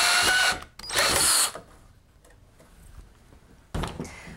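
A power drill drives screws into pre-drilled pilot holes in wooden shelf boards, assembling a frame in three loud, close bursts of whirring with a quieter pause between.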